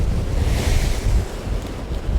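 Big ocean waves surge and crash against the rocks at the feet of a rock fisherman at Cape Banks in Sydney, a loud, close, rushing roar mixed with gusting wind noise on the microphone.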